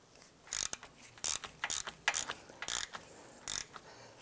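A hand ratchet clicks in short bursts while loosening 13mm bolts on a 2006–2011 Cadillac DTS during a CV axle job, about seven quick, close ratcheting runs separated by brief pauses.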